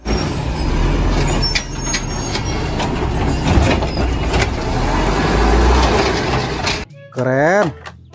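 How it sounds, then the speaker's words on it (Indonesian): A garbage truck drives past with heavy, loud engine rumble and hiss for several seconds, followed by a brief rising, warbling tone near the end; someone speaks over it. "Lihat ada mobil truk sampah teman-teman."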